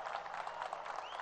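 A crowd at a political bus-inauguration event claps in a brief, faint burst of dense applause that sounds distant and continuous.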